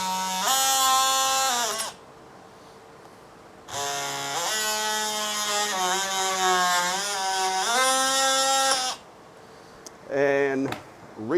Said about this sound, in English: I use my little DeWalt saw here